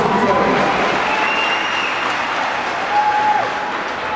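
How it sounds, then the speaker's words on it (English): Audience at a local boxing fight night applauding a performance, a dense, steady wash of clapping from a sizeable crowd, loud and sustained throughout with faint voices mixed in. "Big round of applause for this performance."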